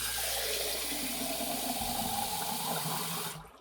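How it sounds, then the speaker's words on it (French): Water is poured back into a container while harvesting ashwagandha seeds, a steady rushing pour that fills nearly the whole stretch and cuts off abruptly just before the end, with no talking. "Et on remet de l'eau."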